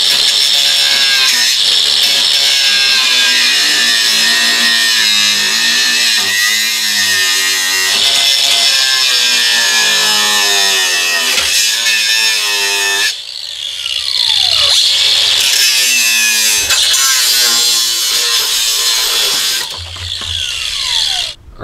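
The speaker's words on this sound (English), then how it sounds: "I'm going to have to cut out all this from the inside and patch that in as well" A power tool cuts out a rusted inner rocker on a Jeep Cherokee XJ with a loud, sustained grinding screech whose pitch wavers as the load changes, and it cuts off near the end.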